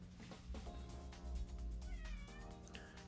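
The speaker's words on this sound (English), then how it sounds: "Shut up, cat." A cat meows repeatedly over a steady background of Mario Kart Tour game music, the calls fairly loud and close, with a rising wail near the end.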